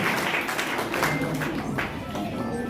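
Crowd applause welcoming teachers at a National Girl Child Day ceremony honouring schoolgirls and teachers. Dense, steady clapping from many hands, with a voice speaking over it.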